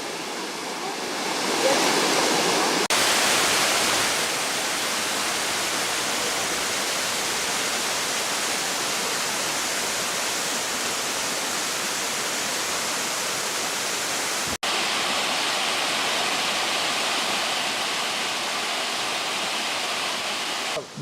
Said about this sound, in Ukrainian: Джуринський водоспад на Тернопільщині.